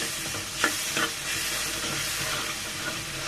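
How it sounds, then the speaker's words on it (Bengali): Spice masala being stirred and sautéed in a pan, a steady sizzle and hiss with a couple of sharper spoon scrapes near the start, close and fairly even throughout. "লাল করে মশলাটা ভালো মতো কষিয়ে নিব।"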